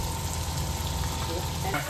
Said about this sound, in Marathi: मस्त कढईमध्ये तेल थोडासा लसूण आणि थोडं मसाला टाकलाय आणि आता हे वाटण थोडासा